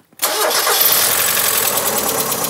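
After a moment of silence, a red Mazda MX-5 engine cranks and fires up, then settles into a loud, uneven idle that sounds somewhat rough.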